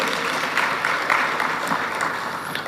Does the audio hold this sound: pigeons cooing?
no